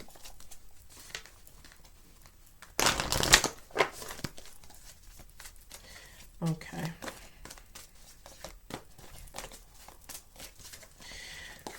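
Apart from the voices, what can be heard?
shuffling a deck of tarot/oracle cards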